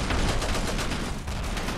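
Rapid automatic gunfire from the video game Ravenfield rattles on in a dense, loud burst of closely spaced shots, with no pause across the moment.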